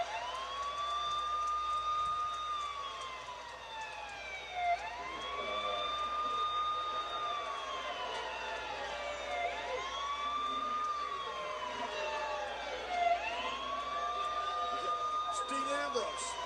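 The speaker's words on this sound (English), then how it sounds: "He's driving the damn ambulance." An ambulance siren wails loudly in repeated rising and falling sweeps, sounding steadily throughout alongside a low vehicle rumble, while voices talk over it.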